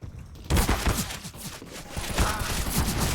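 Rapid bursts of enemy gunfire crack out in a competitive first-person shooter match, a dense string of close, sharp shots after a short quieter opening.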